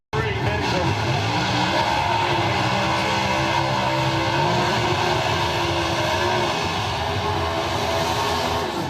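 Drag racing cars roar at a racetrack, a loud continuous engine blast filling the whole stretch without a break.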